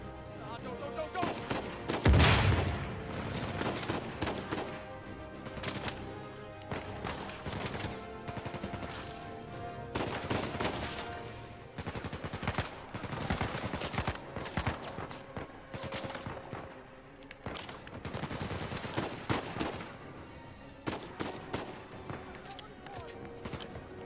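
Gunfire in Uncharted 4 on crushing difficulty comes as dense, continuous bursts of shots and impacts throughout, loud and busy, with a player occasionally talking over the combat.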